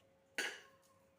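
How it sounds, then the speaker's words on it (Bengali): A lid set down over a pan of bread pizza gives one sharp metallic clink, close and clear, followed by a faint ringing tail and a softer small tap in a quiet kitchen. "একটা ঢাকা দিয়ে দেবো যতক্ষণ না চিজটা গলে যাচ্ছে।"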